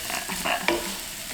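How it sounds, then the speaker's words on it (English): Ingredients for Korean kimbap filling stir-fried in oil in a pan, a steady sizzle with scraping stirs and a sharp clack near the middle, close and continuous with no talk. "You're just gonna stir fry it."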